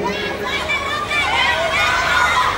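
A concert crowd in an arena in Santa Cruz, Bolivia, keeps up a dense, loud wash of shouting and screaming voices throughout.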